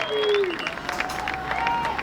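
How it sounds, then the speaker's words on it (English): A crowd at a high school boys' soccer match claps and murmurs in appreciation after a sliding tackle, a short burst of scattered applause with a whistle-like tone sliding through at the start. "Jose with the sliding tackle and the appreciation from the Highlander crowd"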